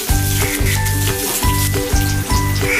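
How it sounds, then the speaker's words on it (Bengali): Onions fry in hot oil with a strong, continuous sizzle and crackle. A rhythmic knocking pulse repeats steadily underneath. "ভাজা ভাজা করতে হবে"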